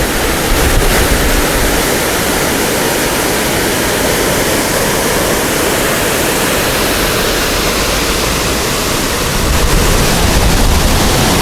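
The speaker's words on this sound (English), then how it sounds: "Very nice waterfall." A steady, full roar of a waterfall in Alaska, broadband and unbroken throughout, with a slight swell near the start and end.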